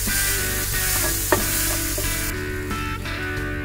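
Ginger garlic paste fries and is stirred in a pan for a beef roll filling, giving a steady, dense sizzle with soft scraping stirs and one brief clink, close and without voices.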